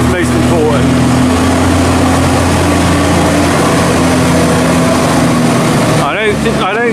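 Tractor engine running steadily at close range while rolling and compacting a maize silage clamp, a constant loud drone with a shift in tone near the end and some talk over it.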